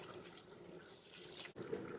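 Tap water runs steadily into a pot of carrots in a home kitchen, a continuous close hiss and splash with a brief break before it resumes.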